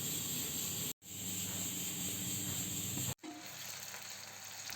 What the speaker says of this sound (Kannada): ಉಳ್ಳಾಗಡ್ಡಿ ಕಟ್ ಮಾಡಿಟ್ರೆ ಅದನ್ನು ಕರಿಯಾಕೆ ಹಾಕ್ತೀನಿ. ಹೈ ಫ್ಲೇಮ್ನಾಗ ಇಟ್ಟು ಉಳ್ಳಾಗಡ್ಡಿ ಚೆಂದ ಕರ್ಕೊಂಡು